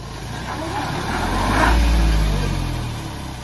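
A car stuck on a mountain road strains its engine, with a low rumble that swells toward the middle and fades again, while people talk nearby.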